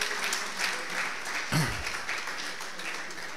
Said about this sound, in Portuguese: Por isso eu pedia uma salva de palmas a todas as mães presentes